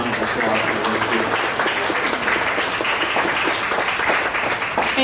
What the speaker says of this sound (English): let's go big round of applause for Leslie.